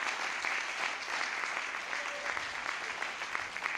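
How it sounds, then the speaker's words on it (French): An audience at a launch event in Abidjan, Côte d'Ivoire, applauds with steady, sustained clapping throughout, moderately distant and even, with no break. "Acclamons pour la présidente. Acclamons pour le président."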